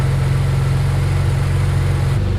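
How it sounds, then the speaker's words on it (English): A rebuilt twin-turbo 6G72TT V6 in a Mitsubishi 3000GT VR4 idles loudly and close up, a steady low rumble whose pitch shifts slightly near the end. "My idle was down to like 700. So I gotta adjust this idle screw, turn this up just a little bit."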